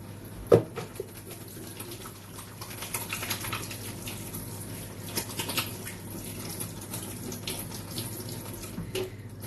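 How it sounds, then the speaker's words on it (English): Tap water runs steadily into a sink as hands are washed beneath it, a continuous close splashing with small bumps and shifts in the flow and no talk. "So I'm just going to wash my hands."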